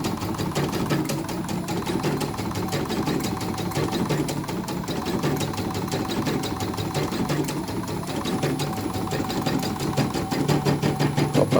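Hakatori embroidery machine running continuously, a rapid rhythmic needle clatter over a steady mechanical hum, close and even throughout, with no talk.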